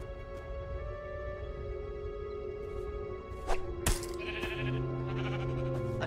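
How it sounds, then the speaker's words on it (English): A sheep bleats in Minecraft: Story Mode, a short game-animal call rising over steady background music and effects, with a couple of sharp clicks partway through. "A sheep?"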